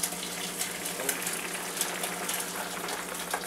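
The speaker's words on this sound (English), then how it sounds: "I'm going to go ahead and drain it into my pitcher here" Boiled potato water is drained from a pot into a pitcher, a steady pouring splash with small gurgles and bubbling, continuous and close, with no talking.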